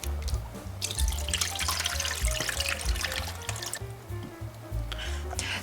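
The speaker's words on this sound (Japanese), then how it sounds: "ボウルに水を入れて梅を入れて洗います" Small ume plums being washed by hand in a bowl of water, close sloshing, splashing and dripping with knocks of fruit against the bowl, continuing throughout.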